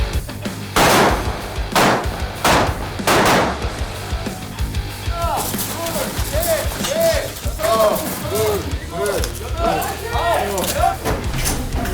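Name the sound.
gunfire during shooting training at the JSA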